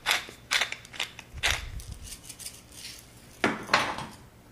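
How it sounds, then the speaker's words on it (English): Tamari soy sauce dressing being whisked in a bowl, heard as a series of irregular clinks and clattering taps of a whisk against the bowl, close but fairly quiet, with short pauses between the strokes. "Go ahead and whisk it up."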